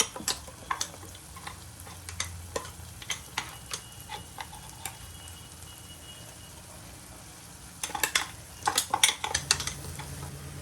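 Coconut-based masala paste going into a pan for a dry fish curry, with scattered stirring and scraping clicks of a spoon against the pan, a quieter stretch, then a busier burst of stirring near the end.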